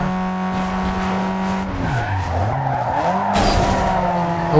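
A car slides with screeching, skidding tires in the racing video game Need for Speed Underground 2, the engine whine bending down and back up through the drift, loud and close with no talking.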